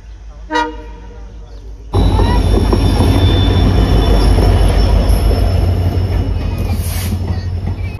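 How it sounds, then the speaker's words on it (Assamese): A train rolls in loudly with heavy rumbling and squealing wheels, preceded by a brief horn toot; a voice is faintly audible near the start. "বৰ্তমান আহি পালে ট্ৰেইন"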